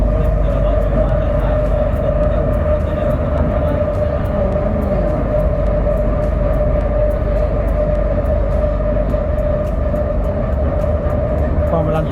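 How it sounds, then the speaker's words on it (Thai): An Airport Rail Link electric train to Suvarnabhumi Airport in Bangkok runs along an elevated track, giving a steady loud rumble and hum with rhythmic clicking over the rails for the whole stretch. "รถไฟ ฟ้าขบวนนี้ไปท่าอากาศยานสุวรรณภูมิ"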